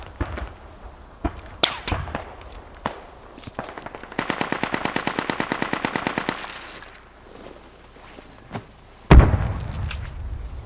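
Gunfire in the military shooter Squad: scattered single shots and cracks at varying distances, then a sustained rapid machine-gun burst of even rounds, followed by more sporadic shots and a sudden loud close bang near the end.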